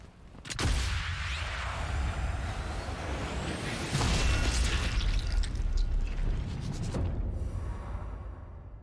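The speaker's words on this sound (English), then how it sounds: "A gunshot." A single loud, sharp gunshot from Sniper Elite 5, cracking out near the start and ringing into a long, echoing tail, followed by mechanical clicks and a second heavy boom a few seconds later, with no speech.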